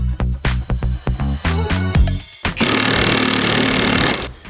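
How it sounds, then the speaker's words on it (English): Wheel studs are driven into brake discs for a big-turbo Toyota Sera, starting with a series of loud, rapid impact-tool bursts and then a sustained harsh hammering rattle, and nobody speaks. "So I could then focus on getting the rest of the studs installed onto the brake discs."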